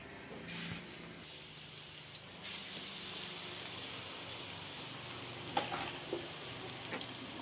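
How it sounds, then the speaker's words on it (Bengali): Small lentil-and-prawn fritters with kundli leaves sizzle and crackle steadily in hot oil, a close, continuous frying hiss with a few sharper pops as more batter drops in. "আবার সেই ছোট ছোট করে আমি ছেড়ে দিচ্ছি তেলে।"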